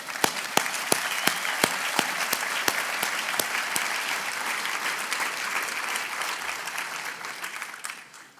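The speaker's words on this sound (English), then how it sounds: "let's have a round of applause for Ontario" A crowd applauds steadily for several seconds, a few sharp claps standing out early, then the clapping fades away at the end.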